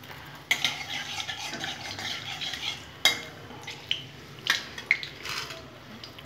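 Dry red chilli and black cumin crackling in hot tempering oil, a continuous close sizzle broken by several sharp scraping clinks of a spoon stirring against the pan, with no voices.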